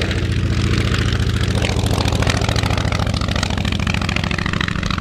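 A Polikarpov Po-2 biplane's radial engine, nicknamed the coffee grinder, runs steadily and loudly throughout, a rough, throbbing, rattling drone heard up close with no talking.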